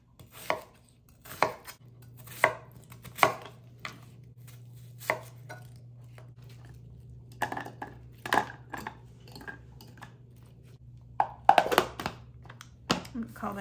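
A knife chops onion on a cutting board in sharp, irregular thunks, some in quick bursts and others spaced apart, with a low steady hum beneath.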